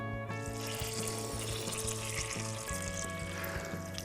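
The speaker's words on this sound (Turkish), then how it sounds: "karanfilli soğanlarımı tencerenin içine koyuyorum" Clove-studded onions fry in oil in a pot for lentil soup, giving a soft, continuous sizzle with light clinks and stirring sounds underneath.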